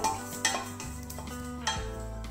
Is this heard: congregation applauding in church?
no